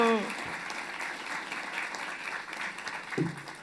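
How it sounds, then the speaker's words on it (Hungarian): An audience applauds a speaker at a talk, steady clapping from a crowd filling the room, with a brief voice at the start and again near the end. "Egy tapsot szeretnék kérni neki, köszönjük szépen!"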